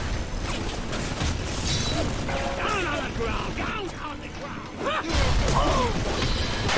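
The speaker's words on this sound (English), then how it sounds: "Just gonna beat him with a wrench." A wrench striking an enemy during a boss fight in the video game BioShock, several sharp metallic clanks and thuds amid game noise, with someone talking over the action.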